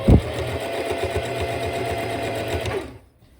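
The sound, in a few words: sewing machine stitching a white cotton dish towel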